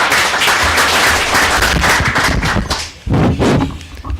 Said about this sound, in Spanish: Y nuevamente lo recibimos con un aplauso